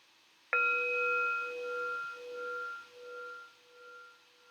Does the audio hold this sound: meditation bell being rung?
yes